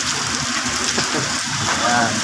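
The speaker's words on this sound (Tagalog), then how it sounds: "Medyo humina na, no, yung ulan, kaya dahan-dahan tayo lalakad" Steady rain falls in a continuous hiss outdoors, dense and close, with a faint voice briefly audible beneath the downpour.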